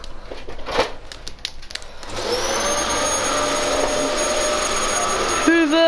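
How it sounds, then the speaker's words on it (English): Hoover vacuum cleaner switching on and running, a steady loud whining roar with a high tone that takes over after some clattering and background chatter and continues to the end. "Hoover, hashtag earache."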